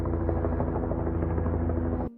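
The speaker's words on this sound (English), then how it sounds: "you can hear a helicopter in the background here." A helicopter drones loudly overhead, its rotor thudding in a steady rhythm before the sound cuts off abruptly.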